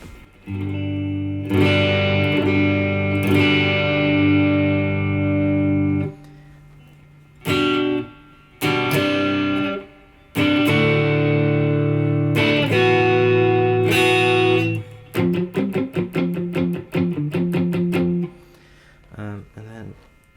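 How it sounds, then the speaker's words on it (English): An electric guitar through a Morning Glory overdrive pedal with a crunchy, edge-of-breakup tone plays sustained chords, pauses, then switches to quick choppy strums. "gives this kind of crunchy, edge of breakup sound"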